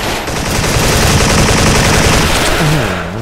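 An upgraded G3 rifle fires in the Special Force video game: loud, continuous, rapid automatic gunfire that runs for about three seconds without a break.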